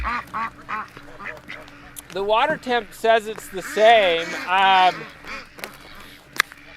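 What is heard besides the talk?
ducks quacking on a farm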